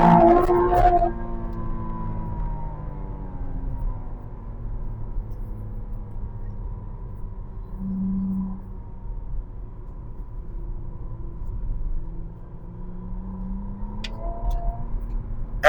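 McLaren Artura Spider supercar driving along, its engine holding a steady, moderate drone with shifting harmonic tones, a brief louder rev swell at the start and a rising pitch near the end.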